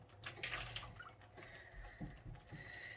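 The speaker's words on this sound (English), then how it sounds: "I'm just going to drop a tiny bit of water in here." Small drops of water trickle and drip onto yarn being hand-dyed, with light splashy sounds, close by and fairly quiet, with a faint hiss of liquid throughout.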